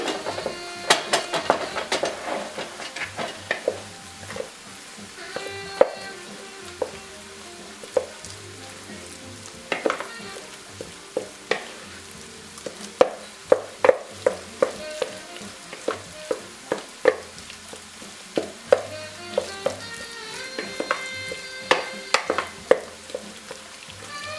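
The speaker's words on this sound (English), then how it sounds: "I'm going to start mixing the meat, egg and the spices with a wood spoon" Ground meat, egg and spices are worked together with a wooden spoon, giving close, irregular knocks and soft scrapes at a steady pace for the whole stretch, with no voices.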